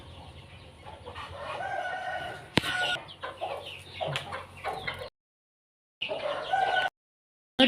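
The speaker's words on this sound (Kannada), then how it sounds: "ಇಲ್ಲಿ ಕಾಣಿಸ್ಬೋದು ಕೋಳಿ ಎಲ್ಲ" Native country chickens cluck loudly and close in an outdoor flock, with a rooster crowing among the hens and a sharp knock partway through; the sound cuts out briefly twice before resuming.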